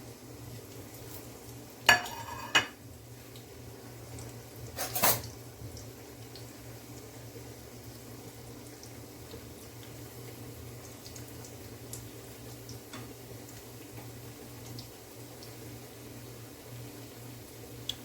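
Plantain slices fry in hot oil with a soft, steady sizzle, broken by a few sharp clinks and clatters of a utensil or pan near the start.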